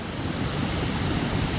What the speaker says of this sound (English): the water coming over was going to be spilling pretty fast based on all of the recent rain